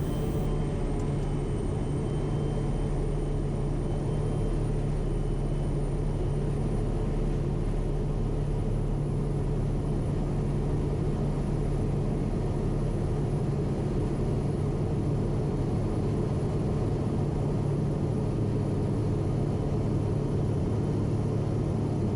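A steady, heavy engine drone with a strong low hum persists as a Quest Kodiak turboprop takes off from the runway, loud and unbroken throughout with no speech.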